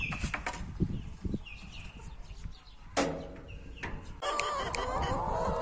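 Hens clucking inside a farm coop, a mix of short calls and squawks near and far, with bursts of louder cackling and some wing or movement rustle throughout.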